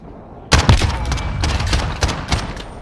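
Light machine gun fire in Call of Duty: Modern Warfare rattles out in loud, close bursts of rapid shots, with dense rattling overlapping for nearly three seconds.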